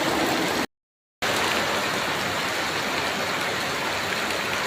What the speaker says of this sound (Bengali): আহা কি প্রশান্তির বৃষ্টি